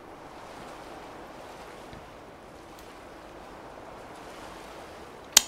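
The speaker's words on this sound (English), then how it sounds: "All you can hear is the sea." Sea waves in Fallout 4 wash in as a continuous soft surf roar with faint wind, steady and distant-sounding, ending in a brief sharp click.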